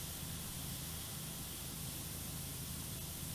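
Pressure washer spraying in PowerWash Simulator, a steady broadband hiss of water jet that stays constant and loud for a few seconds with no pauses or voices.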